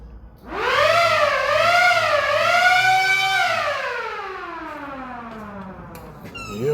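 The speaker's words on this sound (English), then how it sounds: "Got my siren." A siren fitted in a car wails loud and close, its pitch rising and wavering over several seconds before sliding slowly downward, alone with no talk.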